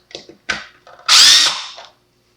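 A power drill backs screws out of the lid of an Eheim Professional II 2028 canister filter, with a few short close whirs followed by one longer, louder burst of the motor that then cuts off.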